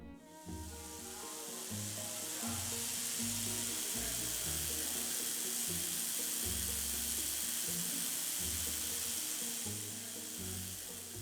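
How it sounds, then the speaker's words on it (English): Steady crackling sizzle like frying bacon from a briefcase-sized Lakhovsky multiple wave oscillator, loud and continuous throughout, with a low rhythmic hum pulsing underneath. "Ross found it odd that the MWO was only the size of a briefcase, and sounded like someone was frying bacon."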